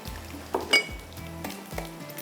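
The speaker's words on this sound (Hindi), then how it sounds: "हल्का सा इसको हमने फ्राई करना है।" Black cumin seeds frying lightly in a pot with oil, a soft steady sizzle running throughout, with a couple of brief stirring clinks near the start and middle; no talk over it.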